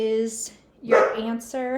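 A pet dog lets out a short, sharp bark in a quiet room, a single close bark between stretches of a person speaking a math lesson.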